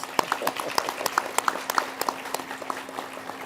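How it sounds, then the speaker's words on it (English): Sparse applause rings out from an audience at a university hooding ceremony for international studies graduates, with separate claps audible through a quiet room hum and some scattered voices. "So let's give them a round of applause."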